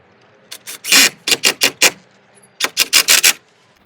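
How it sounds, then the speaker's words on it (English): Screws driven into a wall to fix the mount of a ZOSI C291 4MP WiFi solar-powered camera: two close bursts of loud rhythmic rasping screwdriver turns, each several strokes long, separated by a short pause. "I'm just going to screw it straight in here with the screws that's provided"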